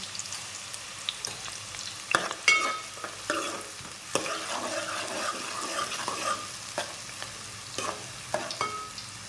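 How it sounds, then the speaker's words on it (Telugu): Onions sizzle in hot oil in a pan for gongura chicken, with a steady fry under repeated close scrapes and clinks of a spoon stirring them. "ఆనియన్స్ వేసుకుందాం. ఒకసారి అయితే మనం మిక్స్ చేసుకుందాం."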